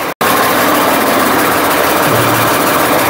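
A crane's engine runs close and loud in a continuous steady drone, briefly cut at the very start, with a low tone shifting slightly later as the revs change.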